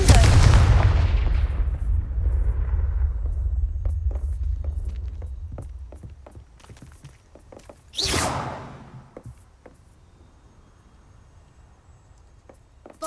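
Confringo blasting spells burst in Hogwarts Legacy, a loud booming hit that fades into a low throb, then a second sharp blast with a rushing whoosh, spaced by quieter game sounds.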